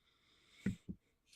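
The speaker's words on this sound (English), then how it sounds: "the missus was blowing her nose" A woman blowing her nose, two short muffled bursts, faint and somewhat distant, alone without talk.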